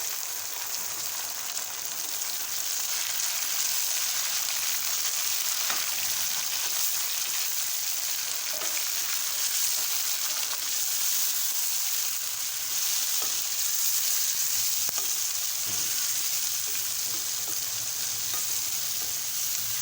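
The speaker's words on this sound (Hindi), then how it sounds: "ये कितने मज़े में टमाटर फ्राई हो रहे हैं, माशाल्लाह।" A kilogram of tomatoes fries in oil after onions, a steady bright sizzle with occasional soft scraping as the pan is stirred.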